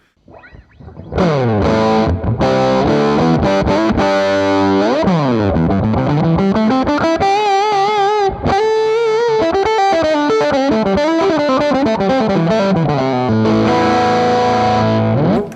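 A heavily distorted electric guitar with its tone knob rolled fully down gives a dark, muffled, throaty tone, playing sweeping bends and sustained notes, loud and alone.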